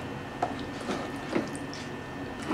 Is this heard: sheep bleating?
no